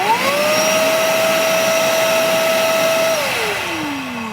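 A Devon 4718 wet and dry vacuum cleaner runs loud and close, a steady motor whine that ramps up at start, holds evenly, then winds down in pitch as it slows.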